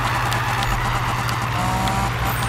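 A Nissan Fairlady drifts through a turn in the Need for Speed 2015 racing game, its engine droning steadily with a faint tire hiss over a constant, dense roar, no talking.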